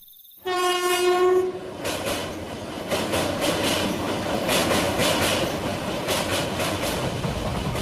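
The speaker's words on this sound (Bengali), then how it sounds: "ট্রেন আসছে" A cartoon train arriving at a station: a loud, sustained horn blast opens, then gives way to a steady, close rolling rumble of the carriages that continues to the end.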